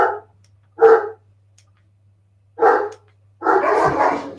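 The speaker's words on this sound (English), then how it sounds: "And you hear my big puppy out there." Several barks from a large young dog outdoors, three separate bursts with pauses between, the last one longer and fuller, heard over a low steady hum.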